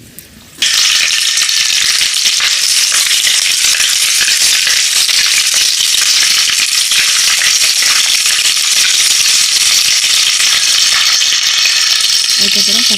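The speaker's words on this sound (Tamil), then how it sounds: "சேர்த்து நல்லா வதக்கி விட்டுக்கலாம்" Shallots with green chillies and curry leaves sautéing for a village-style ayala fish curry: a loud hiss bursts in suddenly after a quiet moment and then holds as a dense, continuous close sizzle with faint rattling underneath.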